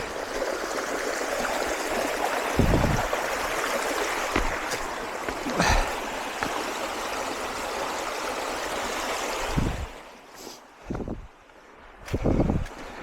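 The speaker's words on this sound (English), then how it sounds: "we've got another creek crossing here, little baby creek. Runs over some slick rock." A small creek flowing over slick rock on a forest trail, a steady rushing wash heard up close with intermittent thumps and wind gusts breaking in near the end.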